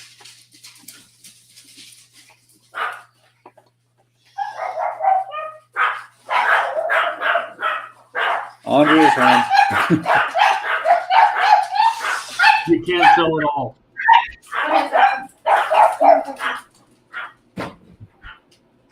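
Small dogs, among them a five-pound Pomeranian named Cody, bark and yip excitedly as someone arrives home and the front door closes, the barking loud and near, mixed with a person talking.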